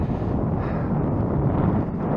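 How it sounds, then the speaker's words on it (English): Cold wind blows outdoors, buffeting the microphone in a loud, continuous low rumble with no voices. "Yeah, it's windy and cold."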